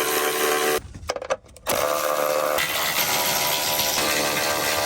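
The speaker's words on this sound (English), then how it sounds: "So we're just gonna undo all of these bolts and then the whole thing should come out." Bolts being undone on the rear shelf shield of a Mazda Miata, heard as a loud, steady mechanical whirring that briefly cuts out and stutters partway through before resuming.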